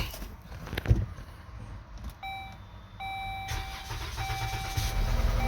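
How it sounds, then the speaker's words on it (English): A 2018-2021 Dodge Journey cranks and catches, its engine turning over and then idling roughly, with a few electronic beeps ringing above the motor. "Running kind of rough, but it is starting."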